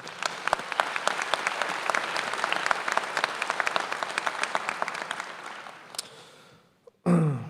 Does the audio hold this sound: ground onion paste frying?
no